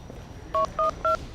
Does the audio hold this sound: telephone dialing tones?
yes